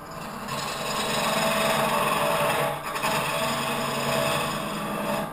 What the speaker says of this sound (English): this tool really isn't meant for hollowing, but it does do a nice job getting it started.